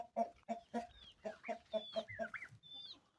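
Young turkeys cluck in a steady series of short calls, with a few high thin peeps from chicks rising over them, close and fairly quiet.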